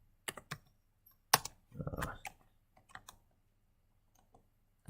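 Terminal commands typed on a computer keyboard, with sparse clusters of close, faint key clicks and taps separated by quiet pauses.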